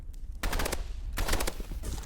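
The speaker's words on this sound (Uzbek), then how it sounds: "O'qlab beramiz." Automatic rifle fire in the Roblox game Rivals, loud rapid bursts of shots in two main volleys with a short gap between them, no speech over it.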